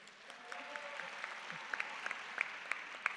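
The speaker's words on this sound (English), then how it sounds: "Okay, now you can clap." Audience applause at a North-West University postgraduate research day award ceremony in South Africa, a steady patter of clapping from a modest crowd with a few sharper individual claps standing out.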